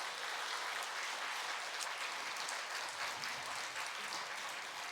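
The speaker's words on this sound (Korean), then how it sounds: "우리 가정을 위해서 박수 한번 드리겠습니다." A church congregation applauds during a Korean Sunday service, a dense even wash of clapping that stays steady throughout and sounds moderately distant.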